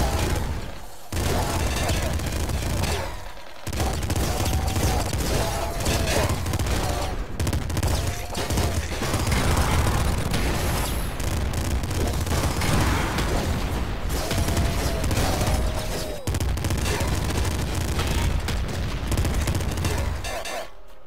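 Dense, continuous gunfire from twin assault rifles in the video game Nuclear Throne rattles on without pause, with rapid overlapping shots and occasional bursts and booms, loud and sustained.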